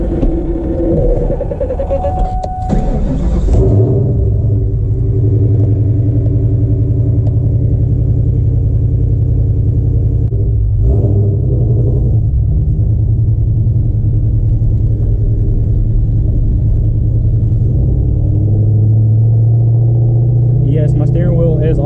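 A 1999 Ford Mustang Cobra cruising with the windows down gives a steady, loud low engine rumble and road drone throughout, with a brief sharper burst early on.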